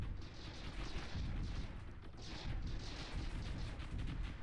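Laser barrage fire from the space strategy game Stardrive 2 pummels a starbase, heard as dense, continuous crackling blasts and booms that hold steady and loud throughout with no pauses.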